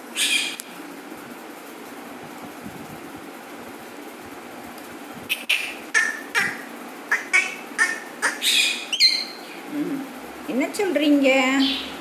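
A peacock gives loud, nasal honking calls in a rapid series near the end, with a person talking and making noises in between.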